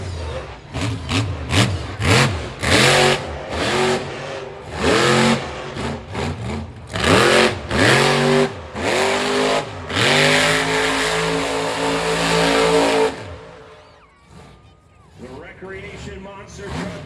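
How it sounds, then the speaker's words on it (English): A big monster truck engine roars and revs repeatedly in loud bursts at a motorsport event, climbing and dropping in pitch, then settles into a sustained drone before fading. "monster truck making its debut and entrance here into the Freedom Factory"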